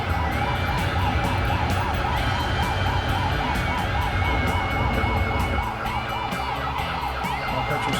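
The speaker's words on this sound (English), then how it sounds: "I'll cut your siren off." A fire engine siren in a driving simulation video game wails continuously and loudly throughout, its rising and falling tone steady over the engine drone, with no speech.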